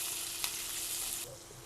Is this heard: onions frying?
yes